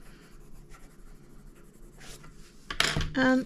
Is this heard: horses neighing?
no